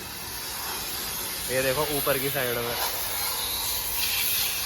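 A portable car pressure washer from a Euro Diamond car care kit sprays water at high pressure to flush mud from a car, producing a steady loud hiss throughout while someone talks over it.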